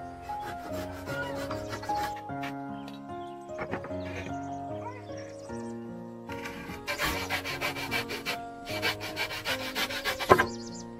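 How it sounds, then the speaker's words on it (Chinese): A hand saw cuts a wooden board for a pigeon coop with rasping strokes, faint at first. The strokes then turn into a quick run of louder back-and-forth rubs, with music playing throughout. "用锯子把木板分割开"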